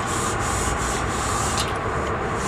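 A stainless steel kitchen scrubby rubs hard over a rusty vending machine rack, giving a loud, continuous, close-up scratchy scrubbing with a faint rhythmic pulse.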